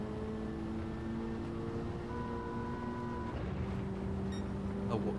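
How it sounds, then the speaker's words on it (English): A car engine with boost revs hard under early throttle on a timed lap, its steady droning tones climbing and then shifting pitch partway through, loud and continuous. "Getting the revs up with this boost."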